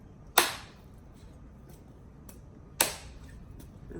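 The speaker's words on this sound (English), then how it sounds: "I use the point of this cleaver here, and I just make little incisions into the coconut" The point of a cleaver strikes into a coconut twice, two sharp close knocks a couple of seconds apart, with faint lighter taps between in a quiet room.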